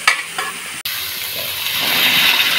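Spice paste for chana masala sizzles loudly in a wok as it is sautéed and stirred, with a few utensil clatters early on and a brief cut before the sizzle swells again.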